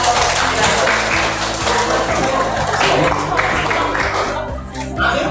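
Audience clapping at the end of a teachers' coaching session, steady rhythmic applause mixed with voices, fairly loud and close, thinning briefly near the end.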